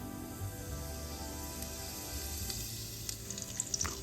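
Fennel seeds sizzling in hot coconut oil in a pressure cooker, a steady bright hiss close up with faint crackles and a few sharper pops toward the end.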